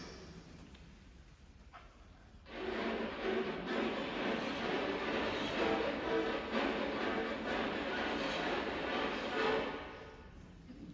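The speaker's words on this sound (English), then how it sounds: "scratch tones in the strings," String instruments play harsh scratch tones, a gritty, noisy bowed texture that enters abruptly after a quiet start. It holds steady at moderate loudness for several seconds, then fades, with no voices.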